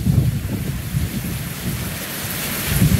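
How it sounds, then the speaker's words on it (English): Heavy rain and wind from Hurricane Ian in Sarasota, a constant roaring downpour with low gusty rumbles swelling at the start and end, no voices. "Look at the rain."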